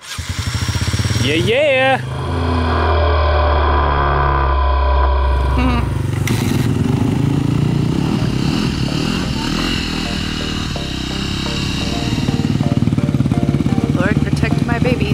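A kids' dirt bike engine runs nearby with a buzzing, rising and falling note, revving up near the start and again toward the end, while a person speaks briefly over it.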